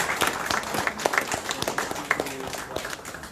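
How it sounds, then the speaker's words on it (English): An audience at a seniors' digital literacy session at a Philippine consulate claps to welcome a guest speaker, a light, uneven patter of hands with voices talking underneath, fairly quiet and close. "A warm round of applause."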